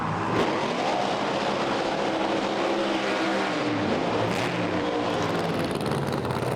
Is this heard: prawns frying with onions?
no